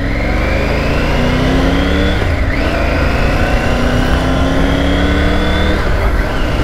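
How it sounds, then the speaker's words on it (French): A car engine passes close by a Triumph Tiger 900 GT motorcycle on the road, a steady loud mid-pitched drone rising and shifting as it goes by, with a continuous engine hum throughout. "On va laisser passer la voiture."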